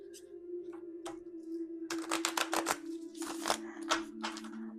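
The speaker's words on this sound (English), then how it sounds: "I think these are going to need a really good shuffling." Tarot or oracle cards being shuffled by hand, a run of crisp riffling bursts and soft slaps close by over a steady low background hum, with no talking.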